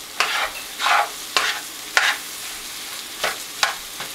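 A spoon stirs a pot of butternut squash soup with potatoes and broth, making about six short, separate scraping swishes spaced irregularly over a soft cooking background.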